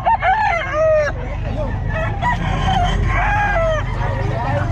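A rooster crows repeatedly at an outdoor pet market, loud nearby calls with rising and falling tones, mixed with clucking from other fowl and a low steady background rumble.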